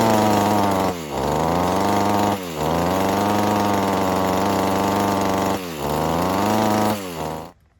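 A Mantis rototiller's small two-stroke engine runs loud and steady with throttle applied, dipping sharply three times as if briefly cut back before surging again, then stopping abruptly at the end; no voices.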